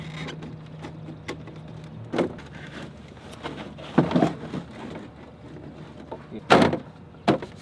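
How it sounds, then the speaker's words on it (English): Door panel being pressed and snapped back onto the door of a 1994 Ford F-250 truck during a window, motor and lock repair, giving several sharp plastic clicks and thumps at irregular intervals against a quiet background, with no talking. "So now I'll put the door panel back on."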